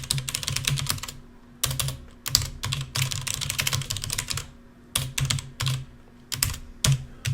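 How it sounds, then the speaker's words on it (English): Close, steady bursts of typing on a computer keyboard as Java code is entered, with quick clicking runs broken by short pauses. "Well, let's make sure I type that in right."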